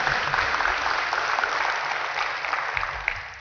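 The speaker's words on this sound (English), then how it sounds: "One more big round of applause." Applause from an audience at a NASA Space Apps Challenge hackathon finale in Huntsville, a steady dense wash of clapping that holds evenly for a few seconds and then begins to thin.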